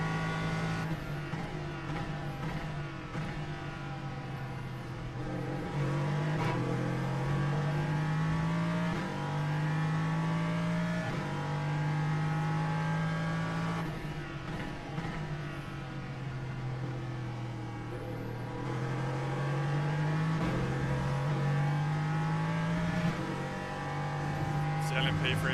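An LMP3 race car engine at the Hungaroring in the iRacing sim drones steadily throughout, its pitch rising and falling with shifts through the corners, while someone talks over it.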